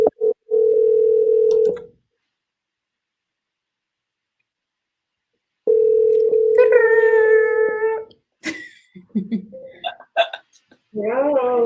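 A repeating two-part video call ringing tone on a phone, a steady electronic note that sounds for about two seconds, pauses, then returns, with a voice and speech following after the ringing.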